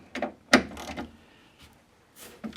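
Short metallic ratcheting clicks from a socket wrench turning a bolt on Porsche 928 suspension, a few close irregular bursts with brief pauses between them.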